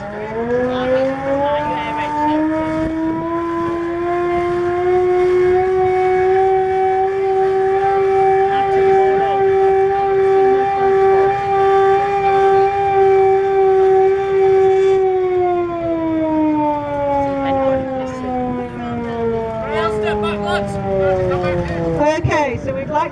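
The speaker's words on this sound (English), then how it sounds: "we're now going to sound the all clear" A hand-cranked air raid siren sounds the all-clear, holding a long steady wail, then slowly winding down in pitch toward the end, loud and alone.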